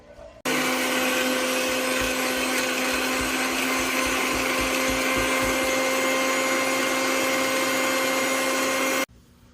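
A blender grinds shallots and green chili into paste, a loud, steady high-pitched whine with a rattling low churn that starts abruptly, runs unbroken for about nine seconds and then cuts off.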